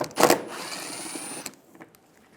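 A power tool on a 2005-2015 Toyota Tacoma front bumper bursts into a short loud whir while backing out a 10mm bolt, followed by fading spin-down and a few small clicks, with no talk.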